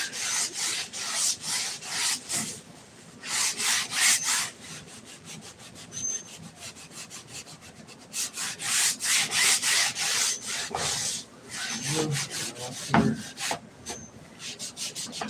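A cloth rubbing hard against an oil painting to take off clear medium, making rough repeated scrubbing strokes in steady back-and-forth bursts, loud and close with no talking.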